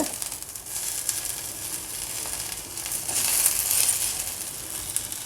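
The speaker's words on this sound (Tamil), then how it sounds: "கோவக்காய் ஒரு 4 நிமிஷம் போல் வதக்கினேன். சிம்மில் வச்சு நல்லா இந்த அளவுக்கு ஃப்ரையாக எடுத்து" Ivy gourd fries over a low flame in a pan, a soft, even sizzle with a faint hiss that swells slightly in the middle; nobody speaks.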